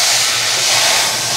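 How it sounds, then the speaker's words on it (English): A hot iron pan meets water and releases a loud, steady broadband hiss of steam that fills the whole moment without a break and with no talking. "If I take this directly over to the water now, I'm gonna get some steam release"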